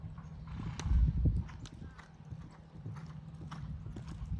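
Hooves clip-clop steadily as a horse is ridden during a riding lesson, a quick irregular rhythm close by, with a brief snort or whinny-like burst near the start.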